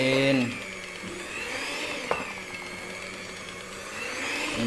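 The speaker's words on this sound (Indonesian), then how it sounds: "Ini kalau kita mixer pakai mixer manual gini" A hand mixer beating potato donut dough, a continuous close motor whine that holds steady for several seconds with a brief clack midway, alone with no talk.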